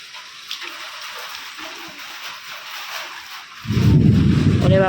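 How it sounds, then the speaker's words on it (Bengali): Storm with rain falling steadily and wind, then a sudden loud, deep rumble of thunder breaking in near the end and continuing to the close. "মেঘ ডাকে গো বন্ধুরা, মেঘ ডাকতেছে, মেঘ ডাকতেছে"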